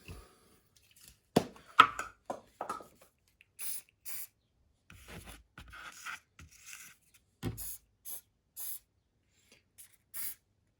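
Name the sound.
hairspray sprayed onto model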